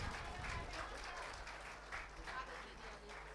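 Applause rises from the audience at the Garhwali film Raibaar's trailer and music launch. The clapping is faint and distant, a soft, steady patter that lasts a few seconds.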